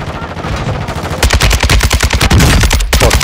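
Rapid bursts of automatic gunfire in a video game fight erupt loudly after a quieter moment, rattling in fast, dense volleys with one brief pause before resuming.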